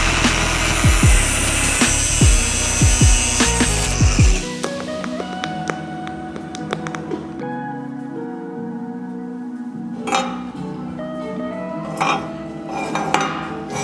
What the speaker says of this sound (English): Took me 2 seconds of grinding to do that.